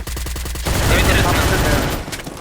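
Rapid bursts of gunfire in the Free Fire mobile shooter, a quick stuttering volley at the start giving way to a dense, loud crackle of overlapping shots, with a voice faintly mixed in.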